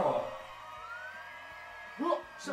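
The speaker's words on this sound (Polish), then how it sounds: "Znowu policja przyjechała!" A police siren wails in a VR bar brawl video game, one rising and sustained tone that swells and fades over a couple of seconds, heard alongside game noise and a short voiced sound.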